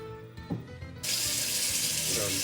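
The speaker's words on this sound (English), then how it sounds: "Fill up your pot full of water." Tap water rushes into an All-Clad cooking pot at a kitchen sink, starting suddenly after about a second as a loud, steady hiss that continues to the end, with light clatter just before.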